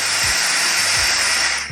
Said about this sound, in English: Clean it from outside and let a little steam out,